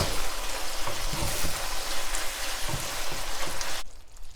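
Spicy stir-fried pork with kimchi is tossed in a pan, a dense sizzling hiss with soft scraping stirs, close and loud, that cuts off abruptly near the end.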